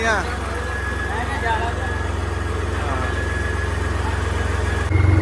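A tractor engine runs at a steady low chug as it sets off, a continuous mid-distance drone with people talking over it and a slight rise in loudness near the end.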